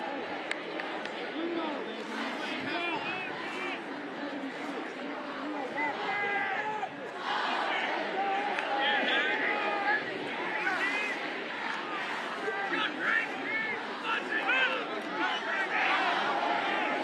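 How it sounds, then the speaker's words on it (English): Large crowd at a Friday night high school football game between two defending state champions, a steady broadband roar of chatter and cheering from many voices, continuous and fairly loud throughout. "Huge crowd here tonight."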